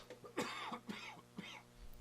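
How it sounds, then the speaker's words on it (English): A COVID cough repeats in several harsh, wet bursts at close range. The first burst is the loudest and the later ones are shorter. No speech is heard. "My stupid COVID cough."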